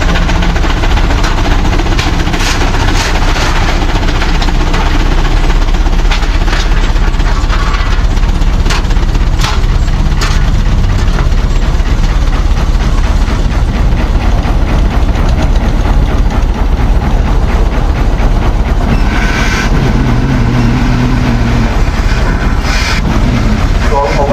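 A steady, heavy coal-fired engine drones and chugs continuously while running machinery, with mechanical clatter throughout and a voice talking over it.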